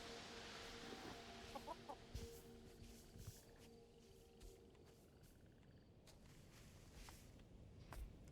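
A bird clucks softly in the video game Aloft, a few faint, close clucks and purring calls early on over a low ambient bed, with quiet footstep-like patter continuing.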